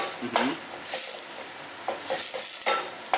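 Spelt patties frying in a little oil, a soft sizzle with a few scraping stirs and light clinks of utensil against pan, close and steady with no talk.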